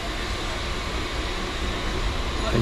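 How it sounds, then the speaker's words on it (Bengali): A local train on the Panskura to Puri line pulls out of a station near the Odisha border: a steady, broad rumble of wheels and carriages builds slightly toward the end, with a voice faintly present. "ছেড়ে দিল ট্রেন"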